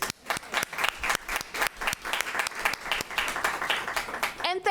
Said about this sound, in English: please join me in giving a very large round of applause to the honorees